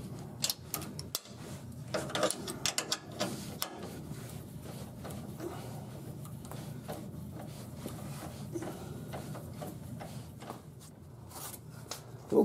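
A ratchet tightens a long sway bar bolt on a 1966 Pontiac Tempest, giving a quiet, steady run of rapid clicks with a few louder knocks.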